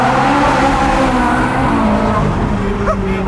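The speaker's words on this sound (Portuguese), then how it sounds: "O barulho da Ferrari é inconfundível" Ferrari engine running steadily and loudly throughout, a continuous close-up drone with rising whine near the end as it revs.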